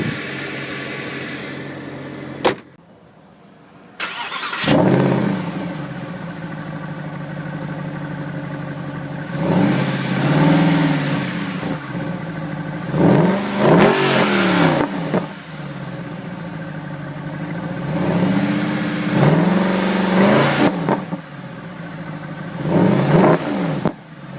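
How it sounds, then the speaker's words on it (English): A 2011 Mercedes-Benz SLS AMG, its engine shared with the S63 AMG, is revved repeatedly through its exhaust, with loud, close blips and surges rising and falling over a rumbling idle, no talking. "It's a beautiful exhaust note."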